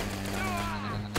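Shotgun fire in the Destiny Crucible video game, a dense burst of loud gunfire filling the short clip with a sharp blast near the end, with a steady game hum underneath.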